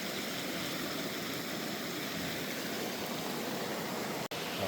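A small runoff stream trickles into a little clear pool in Arapaho National Forest, a soft, steady, faint wash of flowing water with no voices.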